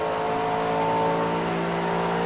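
A race car engine revs in the Project Cars racing game, heard from outside the car as a steady, loud droning whine holding at a constant pitch without pauses.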